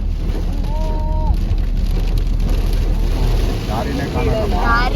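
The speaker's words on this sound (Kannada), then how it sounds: "ಅಲ್ಲಿಂದ ಇಲ್ಲಿ ಮಳೆ ಸ್ಟಾರ್ಟ್ ಆಗಿದೆ" Heavy rain drums on a moving car on the road to Munnar, a dense, steady hiss over low engine and road rumble, while people inside talk and a tonal whine rises briefly.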